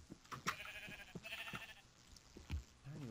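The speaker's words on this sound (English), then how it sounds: "There's so many white sheep over here." Sheep in the video game Minecraft bleat several times in short, wavering calls spaced through a few seconds, faint and scattered, mixed with light game clicks and footsteps.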